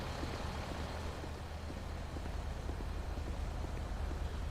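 A vehicle engine idles in a GTA roleplay game, a steady, loud, broadband rumble with heavy low-end drone that holds unchanged from start to finish, with no voices over it.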